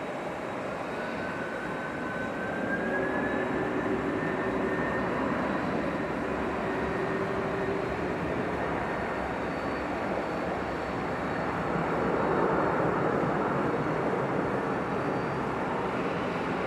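Jet aircraft at DFW Airport at night roar with a broad, steady rumble that swells slowly, heard from a distance with a faint rising whine partway through and no talk.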